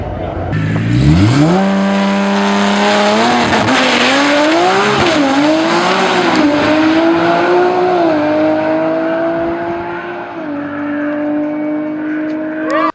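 Vehicles accelerating hard, one after another, with loud close engines revving through rising gear pulls and tire squeal, continuous and roaring.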